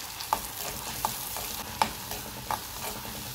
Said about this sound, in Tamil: இப்போ நெய் ஹீட் ஆனதும் நம்ம அதில் அரைச்சி வச்ச அன்னாச்சி பழம் ஆட் பண்ணிக்குவோம்.